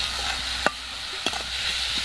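Grated potato and chopped tomato with turmeric and salt being stirred in a hot wok, a soft continuous sizzle broken by two sharp scraping clicks of the spatula against the pan.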